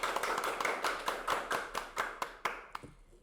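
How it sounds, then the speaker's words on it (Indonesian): Clapping at a school student-organization talk show: about a dozen crisp, evenly spaced claps close by, slowing slightly before stopping, with no talking. "Boleh dong tepuk tangannya teman-teman."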